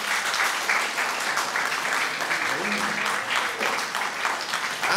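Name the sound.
audience applause at professor inauguration lecture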